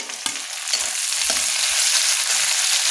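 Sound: capsicum being added and stir-fried in a pan

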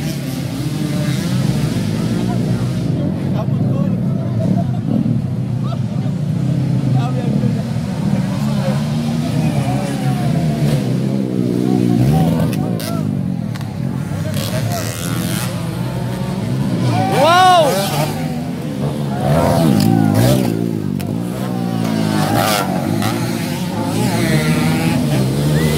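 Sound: motocross enduro race motorcycles revving

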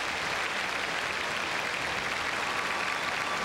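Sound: audience applause at a curling match

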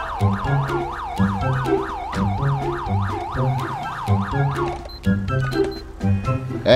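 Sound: police car siren in video game GTA 5

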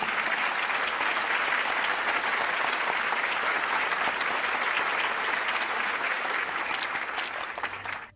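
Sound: audience applause welcoming an award recipient

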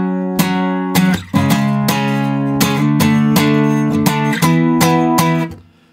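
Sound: guitar playing verse of a song

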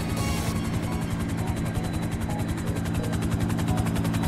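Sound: helicopter flying in a video game (GTA roleplay)

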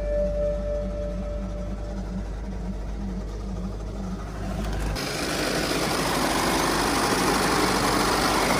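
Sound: damaged BMW G80 car engine running

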